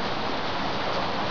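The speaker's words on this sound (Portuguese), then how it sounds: "É porque essa é porque tá chovendo." Rain falls outside, heard from inside a bedroom as a continuous, even hiss of drops with no voices.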